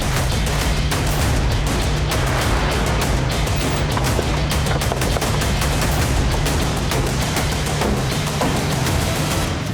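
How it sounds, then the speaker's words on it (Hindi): Rapid bursts of gunfire crackle repeatedly over a dense, loud background, sharp cracks coming in quick irregular volleys with no talking. "सर पक्का गोली चलने की आवाज़ थी"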